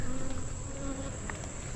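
Honey bees buzz steadily at an open hive during a mite check, a dense continuous hum filling the whole moment with no talk over it.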